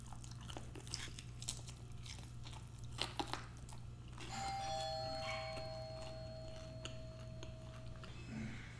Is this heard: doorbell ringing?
yes